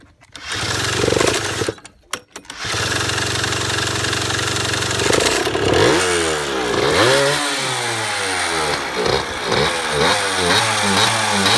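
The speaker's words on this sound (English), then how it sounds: "Steve, magic drill. Do it, do it. Straight on the gearbox." A power drill whines loudly, then a dead Yamaha DT125 motorcycle engine is spun over by the drill on the gearbox, its pitch sweeping up and down in rhythmic surges without catching.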